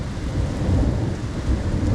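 A violent thunderstorm over Liège, Belgium, with steady heavy rain hissing beneath a deep, rolling thunder rumble, dense and continuous throughout.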